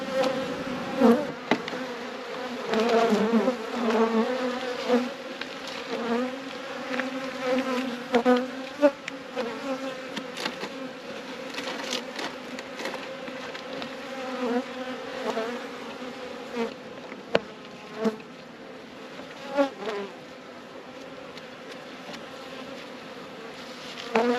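Honeybees in a nucleus hive that is being fed fondant hum with a steady, dense drone, with a few sharper buzzes from individual bees. The colony sounds close and agitated, and there is no talk.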